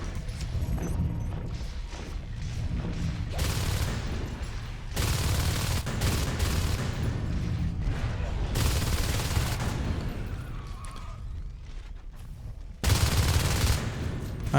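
Shotguns in the sci-fi shooter Natural Selection 2 go off in loud, heavy bursts, with sharp blasts and chaotic battle noise between volleys.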